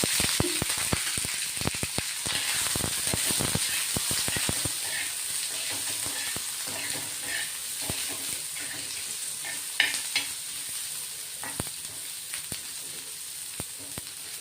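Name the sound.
onion frying in oil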